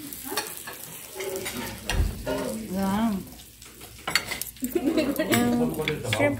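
Shrimp fried rice frying and being stirred in a pan, with sizzling, scraping and clinks of a metal utensil against the pan, under intermittent talk from several people nearby.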